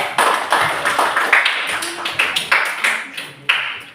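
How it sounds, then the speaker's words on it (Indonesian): In a classroom, students clap for a presenting group, giving loud, close, uneven bursts of handclaps in a rapid series, with a few voices mixed in. "Oke, tepuk tangan untuk kelompok 2"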